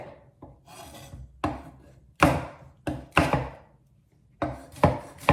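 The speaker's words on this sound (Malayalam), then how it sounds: "ഇതും വലിയ ഫൈനായിട്ടൊന്നും കട്ട് ചെയ്യണ്ട എല്ലാം ആ സെയിം വലിപ്പത്തിൽ" A knife chops onion, capsicum and asparagus on a board for a Kerala-style stir fry, with irregular close thunks and scraping cuts that come in uneven bursts.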